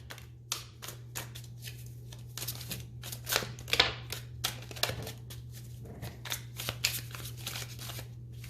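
Tarot cards are shuffled repeatedly, a run of quick riffling bursts and crisp flicks over a steady low hum, with no talking.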